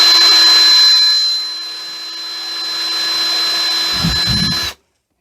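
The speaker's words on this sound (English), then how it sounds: "Let's switch to our other drill and get a hole drilled" A power drill whines steadily at high speed as it bores a hole, loud and close, dipping briefly under load before cutting off abruptly, with a faint low scraping near the end.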